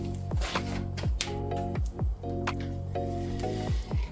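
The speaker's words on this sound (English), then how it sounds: "allow the oil to drain away" Engine oil draining from a 2023 Honda CRF250R four-stroke motocross bike into a pan: a rhythmic series of gurgling glugs, roughly twice a second, close and moderately loud, with no talking.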